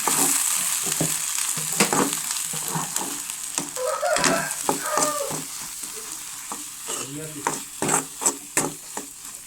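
Goat brain fries with turmeric in a pan, a continuous close sizzle broken by repeated scraping and clattering strokes of a stirring spoon, with no talking.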